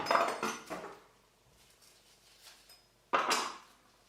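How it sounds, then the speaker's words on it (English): A knife chops through the end of a small onion on a board for homemade coleslaw, a couple of sharp knocks at the start and another crisp cut near the end with quiet between. "So if you cut the end bit here, the other end bit, there we go."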